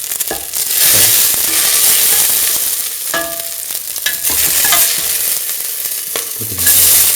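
Cinnamon, fennel seeds and cardamom sizzle and crackle in hot oil, a steady close frying hiss broken by scraping stirs, with no talking.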